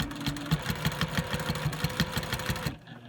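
A sewing machine stitches quilt pieces with a close, rhythmic mechanical chatter that runs steadily for a few seconds, then stops abruptly.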